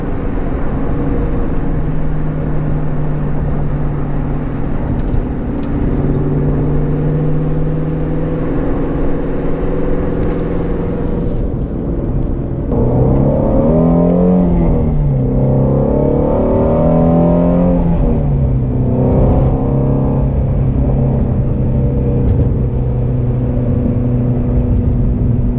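A Shelby GT350R's engine revs repeatedly, its loud, rising and falling roar pulsing in bursts near the car, with a sustained idle hum between pulls.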